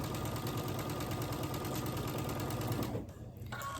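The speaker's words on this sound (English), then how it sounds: "fold this one over this one and sew down this seam right here" A sewing machine stitches a quarter-inch quilt seam, a close, steady, fast mechanical whir that runs continuously and then briefly drops off near the end, with no talking.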